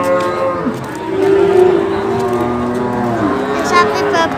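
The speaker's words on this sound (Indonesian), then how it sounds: "Sapi babon, sapi Jawa babon." Javanese cows at a busy cattle market give a long, drawn-out moo up close, with people talking around them through most of it and crowd noise behind.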